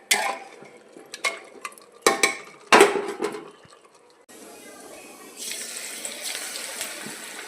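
A kitchen tap runs into a sink in a home kitchen, a steady splashing flow starting partway through and continuing to the end, following several sharp knocks of dishes and utensils close by.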